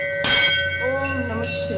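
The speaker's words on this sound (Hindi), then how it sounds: "घंटी बजाई है" A temple bell is rung once at a Hindu shrine to Shiva, giving a bright metallic strike that leaves a sustained, humming ring, loud and close, with faint voices in the background.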